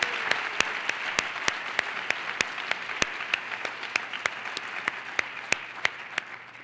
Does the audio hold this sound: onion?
no